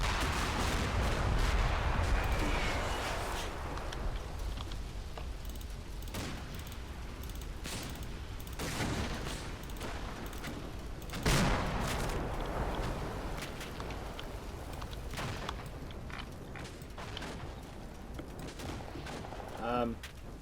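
A grenade launcher and an 84 recoilless weapon fire in the wargame Combat Mission Black Sea, making sharp blasts and booming reports among scattered gunfire, fairly faint against a rumbling battle background.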